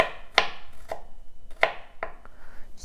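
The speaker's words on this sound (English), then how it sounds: "So I'm basically just mincing the garlic right now" A knife minces garlic on a cutting board for kimchi fried rice, a handful of sharp, close chops at an uneven pace with quiet gaps between them, no talk.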